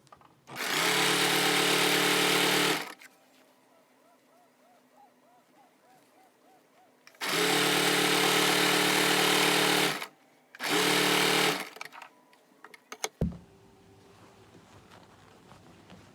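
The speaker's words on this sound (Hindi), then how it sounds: "अब हम इस तरह से इस पट्टी के ऊपर इस पट्टी को रखते हुए इसमें सिलाई लगा लेंगे" A sewing machine stitches two overlapping fabric strips together in three loud, steady whirring runs, each a few seconds long, separated by quiet pauses, followed by a few light clicks and handling sounds.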